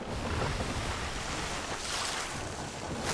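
Water sloshes and washes continuously around a small boat, a dense, steady rushing with some wind buffeting the microphone, close and fairly loud with no talk.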